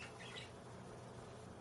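Pet bird giving a brief squawk near the start, fairly faint against a low room hum, followed by quiet.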